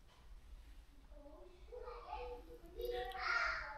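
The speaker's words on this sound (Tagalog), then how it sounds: "ang ingay ng mga bata" Several children babbling and chattering indoors during an overnight babysitting stay, four kids in care; the young voices grow louder and more animated toward the end, with no adult speech over them.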